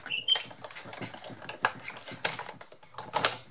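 Big Shot die-cutting machine cranking 300 g card through, a series of mechanical ratcheting clicks and gear grinds in uneven bursts, close and fairly quiet.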